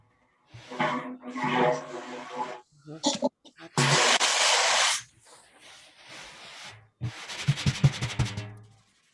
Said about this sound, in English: there's a kind of a rubbing sound and also kind of a mallet sound, like a striking sound